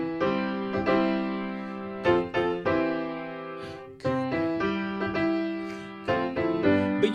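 Solo piano plays the opening of the folk song Kumbaya, slow sustained chords and melody notes ringing close and full, several notes restruck in an even, gentle pulse with no voices.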